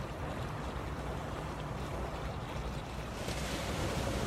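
Ocean waves break on a Maui shore in a steady, close roar of surf, with wind buffeting the microphone throughout and a slight swell toward the end.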